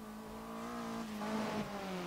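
Rally car from DiRT 4 in a historic intercontinental rally, shown in replay: a steady, loud engine drone with a sustained harmonic whine that shifts pitch slightly as the car slides along a stage.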